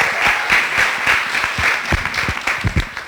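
Audience applause at a FuckUp Nights entrepreneurship talk event in Beirut, a steady dense clapping wash from a crowd lasting about three seconds, fairly loud and even throughout.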